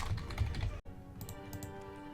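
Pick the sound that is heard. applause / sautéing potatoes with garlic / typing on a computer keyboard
typing on a computer keyboard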